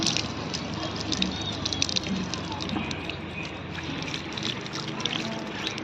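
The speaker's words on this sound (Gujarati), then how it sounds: "જો અહીંયા આપણે હાથ ધોઈ રહ્યા છીએ" Hands being washed under running water at a birthday outing make a continuous close trickle and splash, with faint background voices mixed in.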